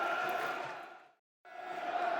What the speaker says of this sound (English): Crowd doing its best to get behind the Lions, find some strength, push them back into the lead if we can